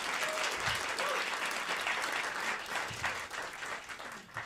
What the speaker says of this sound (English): can I get another round of applause for Deputy Mayor Joshi?